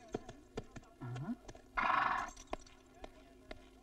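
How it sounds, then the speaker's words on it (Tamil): A horse arrives with sharp, evenly spaced hoof clops on hard ground, a rising whinny near the middle and a louder, noisy neigh after it. The clopping carries on steadily, close and fairly loud. "என்னையா குதிரையில வந்திருக்க?"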